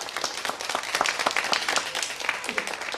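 A studio audience claps for a young girl called a future gymnast, lively many-handed applause, moderately loud and continuous from start to end.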